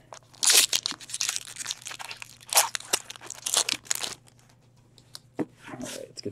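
A Magic: The Gathering booster pack's foil wrapper is ripped open and crumpled in a burst of loud, close crinkling and tearing. Several bursts follow over a few seconds.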